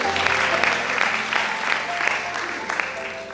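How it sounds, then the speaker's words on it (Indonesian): A church seminar congregation claps for someone, an even wash of applause with faint music or voice tones beneath, holding steady then easing slightly. "tepuk tangan buat dia"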